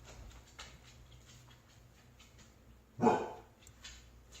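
A pet dog gives a single sharp bark near the middle, fairly close, amid quiet indoor background with a couple of faint knocks; no talking.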